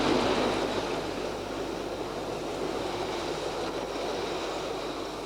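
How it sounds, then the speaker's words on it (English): Heard from aboard a one-third scale steam locomotive built in 1926, lent by the Romney, Hythe and Dymchurch Railway and pulling an eight-carriage passenger train at a Liverpool garden festival, a steady, even rumble continues throughout. "The locomotive pulling us now, Samson, was built in 1926"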